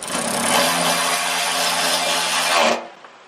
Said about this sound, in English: there's actually a tab right here that I need to drill into